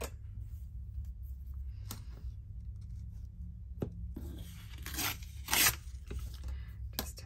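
A scrap of paper is torn by hand in a quiet room, with several short rips and rustles, the loudest tearing burst near the end, close and fairly soft.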